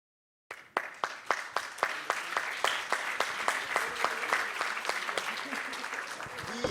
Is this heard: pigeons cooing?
no